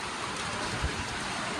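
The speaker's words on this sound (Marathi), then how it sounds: "पाऊस जाम आहे, पाऊस लागला आहे," Heavy rain pours steadily as a dense, even wash of hiss close by, with a soft low thud partway through and no talking.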